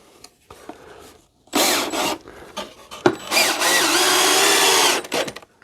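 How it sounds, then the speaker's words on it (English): Power drill driving a screw into wood while building a P-51 pedal plane, heard in two loud close bursts, a short one then a longer sustained whine, separated by quieter handling clicks. "drill the other screw."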